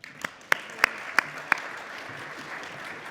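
Scattered applause from an audience welcoming a speaker, a sparse handful of claps spread over a couple of seconds rather than a full ovation, fading into a quiet room with no voices.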